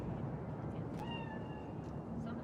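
In the video game Cyberpunk 2077, a cat gives a single drawn-out meow over a dense, steady background of game ambience.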